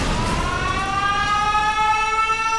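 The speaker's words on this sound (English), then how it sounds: "air raid sirens screamed across the city" Air raid sirens wail across a city, rising with layered tones that swell over a rough background rumble, loud and continuous.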